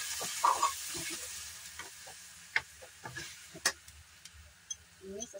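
Water hits a hot pan of stir-fried rice noodles in pepper sauce, setting off a steady hiss and sizzle broken by scattered sharp clicks and taps of stirring, with no voices.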